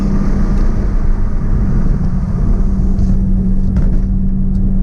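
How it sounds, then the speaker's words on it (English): A steady, loud engine drone with a deep constant hum from an Acura RSX Type-S with a cold air intake, heard from inside the moving car, a few faint clicks and squeaks over it. "we're out here testing that engine cold air intake"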